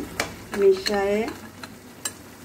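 Spoon stirring fried pumpkin bori into a tomato hilsa curry in a pan, with a soft sizzle and a few scraping strokes, close and fairly quiet with no voices.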